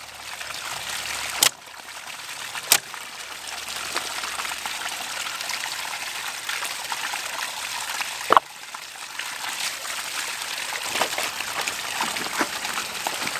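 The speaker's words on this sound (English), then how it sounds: "when I cover the end with my hand, it creates a cavitation pocket." Water flows hard from the open end of a pipe in a microhydro turbine filtration setup while a hand covers the end, giving a steady rushing gurgle broken by a few sharp pops and clicks.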